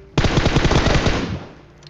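Rapid automatic gunfire in the battle royale game PUBG, a loud burst of closely spaced shots lasting over a second before fading into a short echoing tail.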